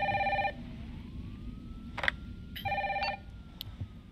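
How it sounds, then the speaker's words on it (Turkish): An old-style telephone bell rings in two long bursts in Resident Evil 3 Remake, with short clicks and sounds from the game between the rings. "Telefon diğer taraftan mıydı?"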